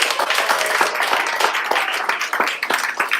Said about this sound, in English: please give all of the performers a big round of applause